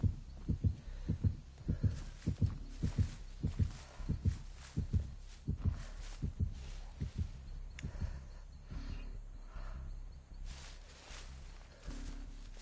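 In the Dead by Daylight video game, the killer's heartbeat warning pounds as a steady, low double thump that repeats rhythmically, strong at first and then fading slightly toward the end.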